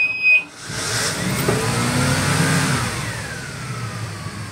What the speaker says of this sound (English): This is engine start.